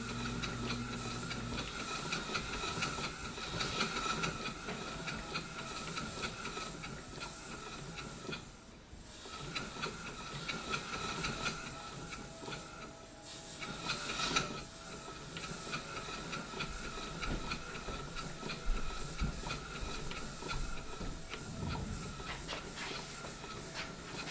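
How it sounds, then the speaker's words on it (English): A marine steam engine with a balanced D valve runs slowly and evenly on low steam pressure, giving a steady hissing, chuffing wash of sound with soft mechanical knocking throughout. "still turning very smoothly"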